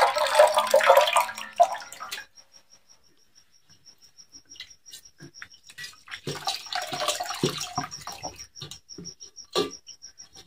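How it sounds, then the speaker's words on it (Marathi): Dirty rinse water from washing moong dal poured into a small pot, a splashing gush for about two seconds, then quiet trickles and drips, with crickets chirping steadily behind. "खराब पाणी घालायचं."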